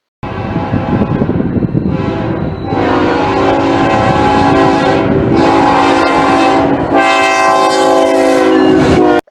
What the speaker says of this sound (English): K5LLA air horn.